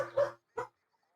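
A dog gives two short barks a moment apart, fairly close and alone, with quiet after.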